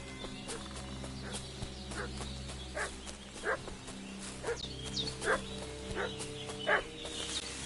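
Dog in Kingdom Come: Deliverance 2 barking repeatedly in short yelps at a medium distance over a low ambient game background.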